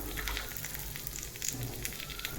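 Coriander chutney ingredients with dried red chillies sauté in a hot pan, giving a steady, soft sizzle and crackle with no talk.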